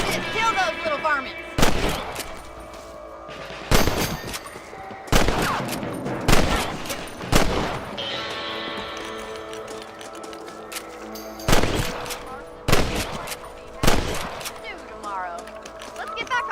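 Sharp rifle shots crack out one at a time at irregular intervals, loud and close, over game ambience with some voices, in Red Dead Redemption 1.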